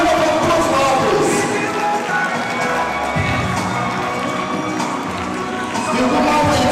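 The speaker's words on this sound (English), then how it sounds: "A round of applause for all this." A loud, lively crowd at a Nigerian fashion event cheers and claps without a break, with high shouts rising above continuous applause.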